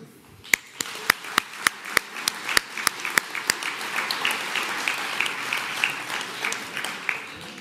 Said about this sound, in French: Je crois qu'on peut tous nous applaudir.